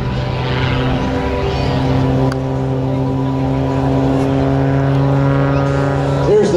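An MXS aerobatic plane flown by Rob Holland roars with a steady, loud propeller-engine drone as it works through a rolling half Cuban eight. The drone holds strong harmonic tones and shifts only slightly near the end.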